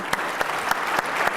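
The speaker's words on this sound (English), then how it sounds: "Please give our panel a round of applause." A conference audience at an automotive industry summit applauds a panel, with steady clapping throughout and a few sharper claps standing out, fairly close and without speech.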